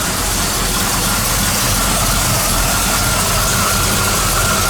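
A car engine idles while warming up, a loud, close, steady rumble with an even low throb and no change in speed.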